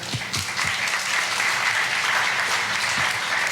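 An audience applauding panelists after a director Q&A at a history center, a loud, continuous round of clapping filling the hall from start to finish.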